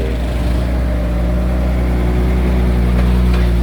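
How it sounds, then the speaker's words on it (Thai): A nearby vehicle engine rumbles steadily at a low pitch, growing slightly louder toward the end as it draws close. "เสียงรถมาแล้วนะ"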